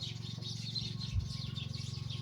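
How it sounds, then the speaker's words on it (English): Faint birds chirp and twitter continuously in the distance over a low, steady rumble of background hum. "You can hear the birds."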